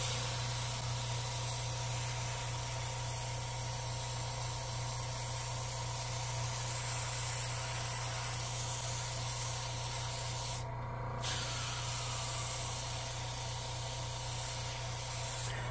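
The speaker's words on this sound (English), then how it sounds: "Now I'm going to go down to a finer point of paint coming out of the nozzle" Airbrush spraying paint onto a B-25J Mitchell scale model, a steady close hiss of air and paint running almost unbroken, with one brief pause partway through before spraying resumes.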